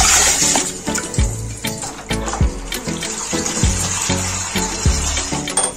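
Water poured into a pot of palak gosht, splashing and gurgling in uneven bursts with repeated dull thuds and sloshes, close and fairly loud for several seconds.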